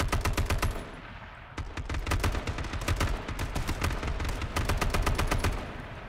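Rapid bursts of automatic gunfire in the battle royale game H1Z1, loud and close, firing in dense repeated volleys with a short lull before the shooting resumes for several seconds.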